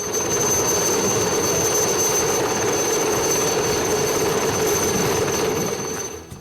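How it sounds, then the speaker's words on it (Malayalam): Constant loud rotor roar and whine of a navy helicopter close by, with a high steady tone running throughout, fading slightly at the end. "കൊച്ചി നേവൽ ക്യാമ്പിൽ നിന്നെത്തിയ ഹെലികോപ്റ്റർ എല്ലാവരിലും കൗതുകമുണർത്തി"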